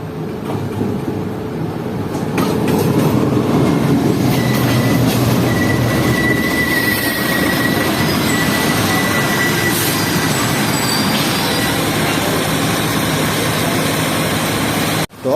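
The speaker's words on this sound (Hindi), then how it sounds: "उसी दौरान कराची और हवेलिया के दरमियान चलने वाली 11 अप हज़ारा एक्सप्रेस मेरे सामने से आई" The Pakistan Railways Hazara Express passenger train passes close by, led by a GU40 locomotive. A loud, continuous roll of carriages and wheels comes with a thin metallic squeal and rhythmic clatter.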